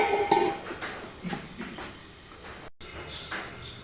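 Metal lid set down and closed on a pan of squid roast: a bright clatter of cookware at the start, then softer knocks and scrapes, followed by a quieter stretch.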